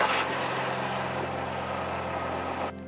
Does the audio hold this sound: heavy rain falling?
no